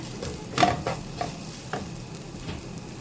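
Chicken curry with coriander powder being stirred and fried in a pan, with a few distinct scraping stir strokes over a low steady sizzle, close and moderately loud, no talking.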